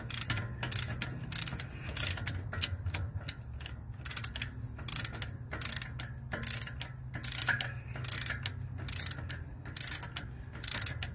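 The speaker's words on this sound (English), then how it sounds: "After a while, you can just take the breaker bar off and just use the socket to do the rest of it" Socket on a breaker bar ratcheting while a tooth bolt is worked loose on a Caterpillar HM418C mulcher, giving a run of close, crisp clicking bursts in an uneven rhythm over a low steady hum.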